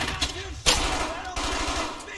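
Gunfire in the World War II shooter Brothers in Arms: Hell's Highway, with machine-gun fire and a couple of sharp rifle shots cracking over steady battle noise, while a player talks.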